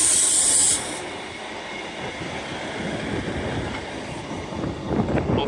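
A Northern class 158 diesel unit, 158904, arriving at York station, a rumbling rolling train with hissing brakes and a steady rail roar under a high station tone at the very start.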